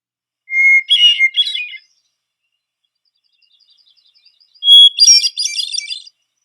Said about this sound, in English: Let's record a bird and give it a try.